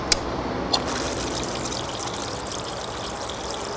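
Water rushes in a steady, close wash as it is turned on to feed a Gold Genie spiral gold wheel concentrating river gold, with a couple of faint knocks at the start.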